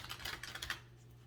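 Tarot cards shuffled by hand, a quick flurry of light papery clicks and flutters lasting under a second before fading to quiet, soft and close.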